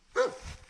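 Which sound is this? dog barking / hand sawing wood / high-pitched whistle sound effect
dog barking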